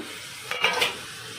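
Chopped mint leaves dropped into hot oil for chicken biryani, a short burst of sizzle with a couple of quick stirring scrapes against the pan, brief and close, with no voices.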